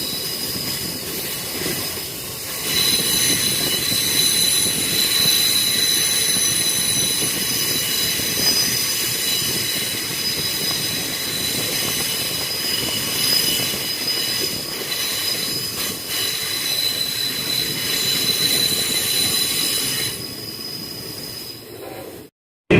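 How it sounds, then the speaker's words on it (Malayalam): An Indian Railways WAP-4 electric locomotive hauls the crowded Punalur–Madurai Express near Kollam at dusk, a steady loud rolling rumble with high wheel squeal and hiss sustained for about twenty seconds, heard from on board without talk. "ഈ ഡബ്ല്യു പി ഫോർ ആണ് മധുരൈ ജംഗ്ഷൻ വരെ ട്രെയിനെ പുള്ളി ചെയ്ത് കൊണ്ടുപോകുന്നത്"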